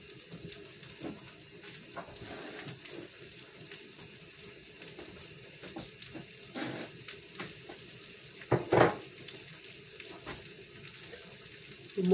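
Rice and beans for casamiento frying in oil in a pan, a steady low sizzle and faint stirring with a few brief clatters of a utensil, no talking.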